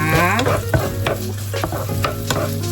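Red chili and garlic sizzling hard in a hot pan, with repeated scraping and clinking as they are stirred. No one speaks.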